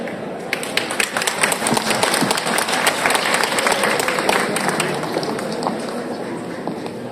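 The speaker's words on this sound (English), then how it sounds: "let's give a warm round of applause to our host, Mr. Martin Nesirky" An audience applauding at the United Nations in Vienna for a Chinese Language Day event, dense steady clapping from a large crowd filling the room and holding evenly for several seconds, slowly thinning toward the end.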